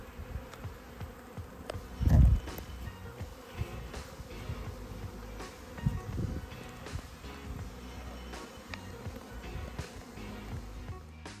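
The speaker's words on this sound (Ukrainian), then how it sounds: "Ось пчоли з цього вулика, які були, прилетіли на сусідню сім'ю." Honey bees from one hive fly over to a neighbouring colony, a soft continuous buzzing of many insects close by, with a louder pass near the microphone and light rustling, no talk.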